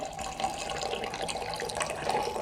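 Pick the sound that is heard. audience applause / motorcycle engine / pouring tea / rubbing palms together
pouring tea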